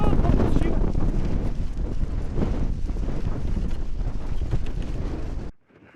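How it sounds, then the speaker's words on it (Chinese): Strong wind roaring through a windy pass in open desert wasteland, a loud continuous buffeting rush against the microphone that cuts off abruptly near the end. "远处的沙尘被大风给吹起来上百米高。"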